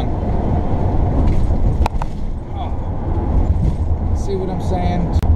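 Steady rumble of an RV riding a rough, bumpy road on a hot, humid trip west from Ohio, with occasional sharp bangs and jolts over a dense low roar. Someone talks over it in places.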